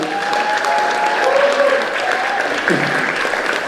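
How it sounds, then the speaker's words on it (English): A celebrating audience gives loud, continuous applause for gold medal winner Marco Arob, a thick, steady roar of clapping with voices mixed in. "So we want to give him applause for his hard work."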